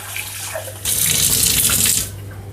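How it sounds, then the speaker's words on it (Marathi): Water pours steadily from a tap into a pressure cooker of chopped vegetables for stock, a loud rushing splash lasting just over a second before stopping, with faint kitchen clatter around it. "याच्यामध्ये पाणी टाकूया पाणी अंदाजाने घ्यायचं"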